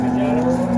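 A cow at a livestock market in Boysun, Surxondaryo, gives a short, steady low moo, close and fairly loud, over background crowd noise.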